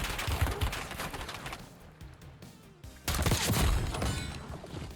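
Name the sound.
gunfire in a Call of Duty video game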